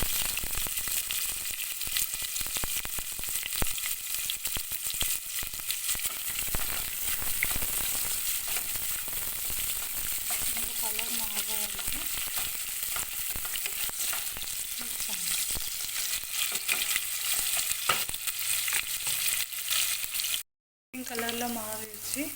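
Onions fry in hot oil with bay leaf, cinnamon and spices for ghee rice, a steady crackling sizzle that goes on throughout, with a few brief stirring clatters and one short dropout near the end.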